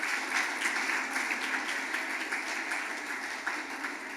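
Congregation at a church service applauding steadily throughout, a dense continuous wash of many hands clapping at moderate distance with no voices over it.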